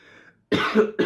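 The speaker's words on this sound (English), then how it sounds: "Now excuse me, I get small cough." Someone speaking at a public gathering in Buea, Cameroon, lets out two short throaty coughs, close and loud, after a moment of quiet.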